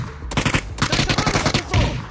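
Rapid bursts of automatic gunfire in a battle royale shooter game, several sharp volleys crackling close and loud across the moment with brief gaps between them.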